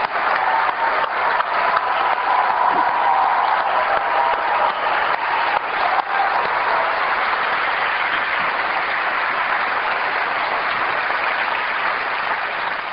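An audience at a 1999 Apple special event keynote gives a long, sustained ovation, a broad, roaring sheet of clapping from a large hall that stays loud and steady from start to finish.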